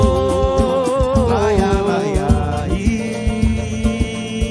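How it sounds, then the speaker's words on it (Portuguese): Samba drums beat steadily beneath a busy, dense musical backdrop, with deep thumps punctuating the lively melody. "Esse é o som do tambor."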